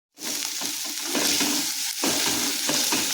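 Leftover cooked rice being stir-fried into fried rice crackles with a loud, continuous sizzle and rhythmic scraping of a spatula against the pan, close and alone without voices.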